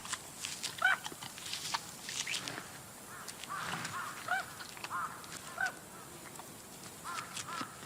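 Several noisy goose-like birds honk and call in a Siberian tiger's forest habitat, with scattered honks at moderate distance over a steady background hiss, no speech.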